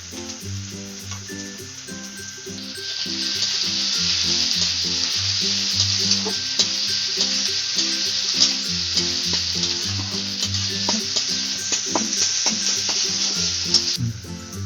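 Chopped onion, garlic, ginger and green chilli fry in hot oil with a steady, loud sizzle, joined by intermittent stirring scrapes against the pan; background music plays underneath throughout.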